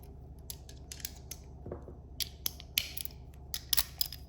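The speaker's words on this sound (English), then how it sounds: "we'll take the stubby 3/8 drive ratchet with the adapter" A stubby 3/8 drive ratchet with an adapter tightening a plastic fitting on a 2009 Honda Aquatrax F15X starter, giving a few sparse, close clicks and creaks spread over a few seconds.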